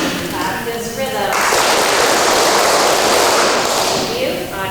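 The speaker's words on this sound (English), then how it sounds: "Fourth grade, would you please clap this rhythm?" Fourth grade students at a school spring concert clap out a rhythm together, a dense burst of many hands lasting a few seconds, with a voice speaking briefly before and after.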